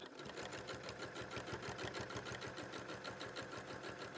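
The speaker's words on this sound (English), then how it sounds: "you're just going to top stitch 1/8 of an inch away" A sewing machine runs continuously, top stitching fabric with a lengthened stitch, its needle chattering in a fast even rhythm throughout, close and steady with no talk over it.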